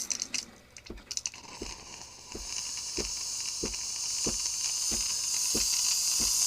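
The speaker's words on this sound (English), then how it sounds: "There we go, we've got steam coming out there now." A Gevi 20-bar espresso machine's steam wand flushes out a steady, rising hiss of steam that builds after a couple of seconds and keeps going, close up, with regular soft ticking from the machine underneath.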